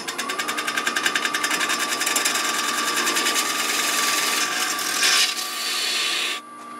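A wood lathe rough-turns a green Bradford pear bowl blank, the gouge chattering in a steady rapid rhythm over a constant motor hum, loud and close, then the cut stops abruptly near the end.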